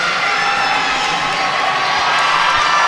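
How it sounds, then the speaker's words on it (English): A collegiate gymnastics meet crowd cheers loudly and steadily in an arena, a dense continuous roar of voices and whoops with no break. "you're going to hear the crowd getting pumped up here"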